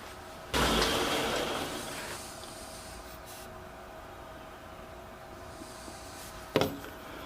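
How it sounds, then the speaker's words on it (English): A small sander flattens the end of a wood glue-up for a turned candle ornament, whirring up with a loud rough grind that eases into a steady hum, then a brief clatter near the end, with no talking. "I gotta take this to my little sander and just flatten the end off."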